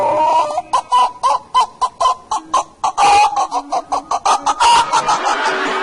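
A voice imitates roosters and hens calling at dawn with a fast, rhythmic run of sharp clucks and a few drawn-out crowing notes, loud and close.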